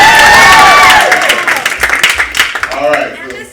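Applause from the audience at a high school poetry slam, loud dense clapping at first that thins and tapers off toward the end, with voices mixed in.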